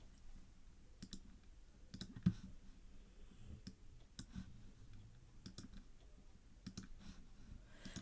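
A computer mouse clicks quietly over a faint room hum while working in Google Sheets, making about a dozen crisp, scattered clicks, some in quick pairs like double-clicks.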